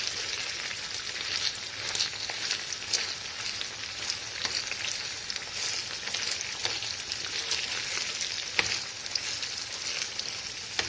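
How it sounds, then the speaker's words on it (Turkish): Tomato paste fries in olive oil in a pan, giving a continuous close sizzle and crackle with scattered pops and stirring scrapes, steady throughout and without talk. "salçamı kavurayım birazcık"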